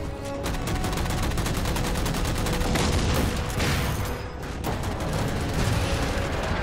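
Dense, sustained automatic gunfire from the Halo 4 video game as jammers are shot down, loud rapid bursts running almost without pause, with brief dips in the barrage and heavy booming undertones.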